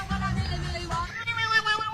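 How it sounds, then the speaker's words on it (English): A cat making an odd, unusual noise, a wavering, tonal cry that rises and bends like a strained meow or caterwaul, fairly close and continuous for a couple of seconds. "So if for those listening, it's a cat."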